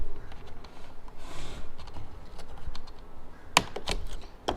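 Plastic trim being pried off the dashboard of a Honda Civic, with scattered soft scrapes and creaks followed by several sharp clicks and snaps as clips release, close up.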